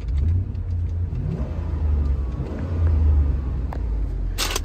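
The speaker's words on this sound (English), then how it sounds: "Engine sounds healthy." A 2018 Isuzu NPR gas box truck with a 16-foot landscape body revs its engine at a standstill, giving a couple of rising and falling pulses over a low idle rumble, moderately loud, with a sharp click at the end.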